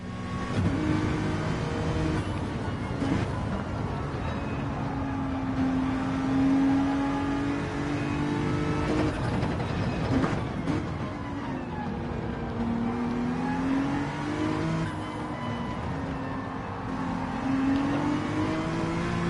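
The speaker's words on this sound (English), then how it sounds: "the Group 2 car that come through, they're fast, aren't they?" Group 2 race cars at Interlagos in a racing video game, a loud continuous engine drone rising and falling in pitch as the cars accelerate and pass, with no talk.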